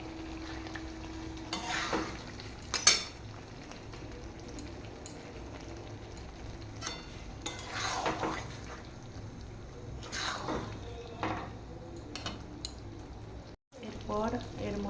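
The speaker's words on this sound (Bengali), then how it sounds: "একটু নাড়াচাড়া করে নিলাম" Tomato and mango chutney is stirred in a pan over a low, steady sizzle. Repeated scraping strokes of a spoon come in bursts several seconds apart, with a brief clatter and a short drop near the end.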